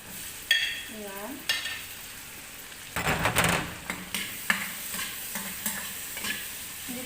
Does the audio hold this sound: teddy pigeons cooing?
no